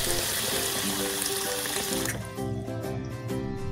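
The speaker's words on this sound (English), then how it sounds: "Wash your hands." A tap runs while hands are washed: a steady, close wash of flowing water fills the first two seconds, then thins into a lighter trickle under a faint tonal background.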